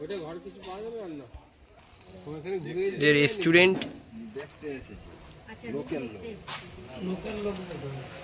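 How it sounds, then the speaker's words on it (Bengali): Evening crickets chirp around an eco resort in Purulia, a thin steady high drone running beneath people talking nearby. "ঝিঝি পোকার ডাক, ঠান্ডা বাতাস বইছে"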